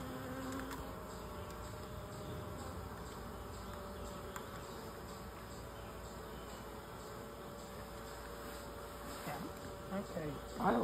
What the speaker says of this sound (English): There's another large bee right there.